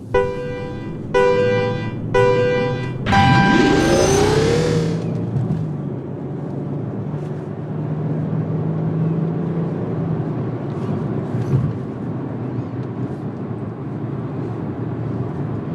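A 2014 Hyundai Genesis 380 accelerates hard in a high-speed test, heard from inside as a rising engine note climbing through a gear, then settling into a loud, steady cruising drone with road and wind noise, after a few opening chimes.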